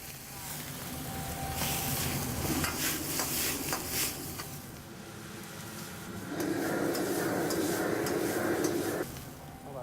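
Chinese dish stir-fried in a wok with yellow cooking wine added, a steady sizzle and scraping stir running throughout, with clattering utensil strokes and a louder hiss swelling near the end.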